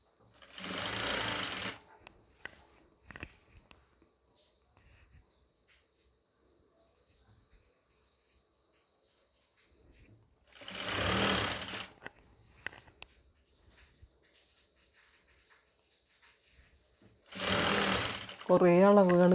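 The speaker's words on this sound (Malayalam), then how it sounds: "ഈ റൗണ്ട് ചെയ്ത് ഈ നെക്കിൻ്റെ ഭാഗം തയ്ച്ചു കൊടുക്കുക" A sewing machine stitches the neck of a nightie in three close bursts of rapid, even whirring, separated by quiet stretches of handling fabric and someone talking.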